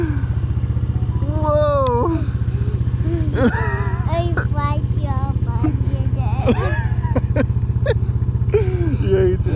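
A youth 2023 Can-Am Renegade 110 ATV engine drones steadily and loudly close by while being ridden, with voices talking and exclaiming over it throughout.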